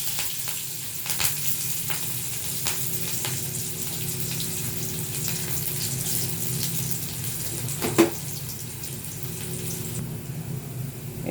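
Chopped ginger and garlic fry in ghee in a pan for vegetable soup, giving a steady, close sizzle with a faint bubbling hiss and an occasional clink of the utensil.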